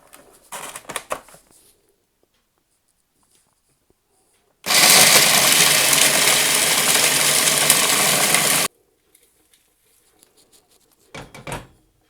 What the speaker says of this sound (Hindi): बाकी के नट्स भी सारे मैं मिक्स करके पीस रही हूँ।